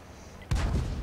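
A single booming cannon shot from an IS-3 heavy tank in World of Tanks, loud and close, with a sudden blast and a rumbling decay.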